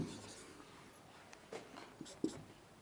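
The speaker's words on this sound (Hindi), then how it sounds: "तो हम वही लिख देंगे थेल्स प्रमेय से समान अनुपात में" Chalk or pen writing a Thales theorem ratio equation during a class 10 geometry lesson, a faint scratchy stroke sound with a few sharper taps, no talking.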